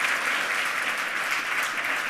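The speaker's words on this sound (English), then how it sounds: "please give Lepht Anonym a really warm welcome" Applause from a conference audience welcoming a speaker to the stage at a hacker congress, a steady dense wash of clapping held at an even level throughout, with no voices over it.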